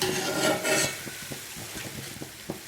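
Boondi batter (gram flour) sizzles and hisses in hot oil, loud at first and then quieter, with light taps of a spoon or ladle against the pan.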